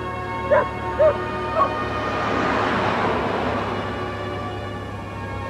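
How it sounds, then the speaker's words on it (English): A dog gives three short, separated barks or yips in the first second and a half. Steady low rumbling noise, like a passing train, underlies them and swells after the barks. "It appeared that their dog Lucky was running nearby"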